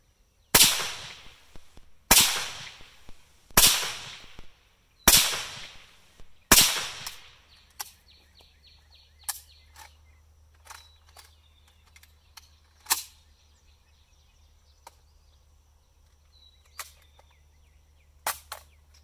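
Five sharp suppressed shots from an AK47 firing 124 grain supersonic soft point 7.62x39 rounds, evenly spaced at about one and a half seconds, each with a short decay, followed by faint clicks and handling noise.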